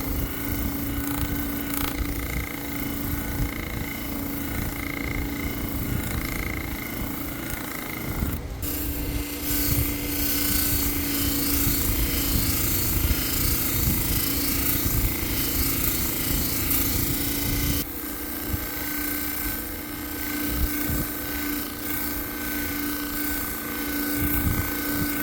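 A 600 grit sanding belt polishes a large agate limb cast, giving a continuous loud abrasive rasp with a steady motor hum beneath, changing pressure at a couple of points.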